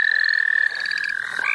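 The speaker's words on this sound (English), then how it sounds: "Oh, it is tree frog." A tree frog trills nearby at night, a loud high-pitched continuous pulsing call that shifts slightly in pitch, heard alone without voices.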